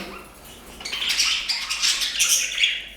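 Pet budgerigars and finches in an indoor bird room, giving a short burst of bright chirps and fluttering that swells after a quiet start, close by, with no voices.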